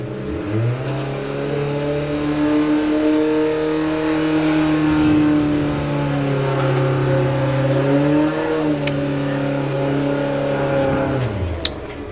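A Golf and a Mustang drag racing side by side down the strip at a drag racing festival, engines droning loud and steady as they accelerate, pitch climbing with gear changes before easing off at the end.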